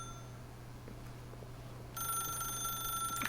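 A telephone rings in the video game The Stanley Parable, a steady electronic ring that starts partway through and continues over a low room hum, fairly close with no talk.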